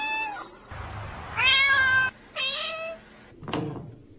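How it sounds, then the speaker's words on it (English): A cat meows several times close by, drawn-out plaintive cries with short gaps between them, ending with a sharper, higher call. "Cat meow."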